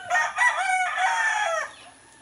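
Young roosters (stags) on a rainy mountain morning, crowing loudly and close, one long cock-a-doodle-doo followed by softer clucks fading away.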